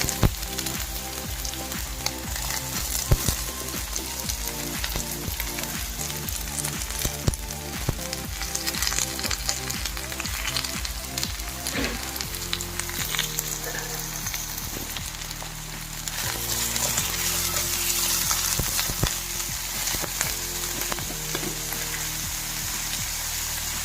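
Onions and curry leaves fry in a pan with a steady, close sizzle throughout, the crackle shifting and swelling slightly partway through as the pan is stirred; no one speaks.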